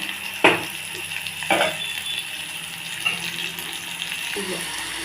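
Crushed shallots, ginger and garlic fry in a pan, giving a steady gentle sizzle punctuated by several distinct clinks and scrapes of a spoon stirring against the metal.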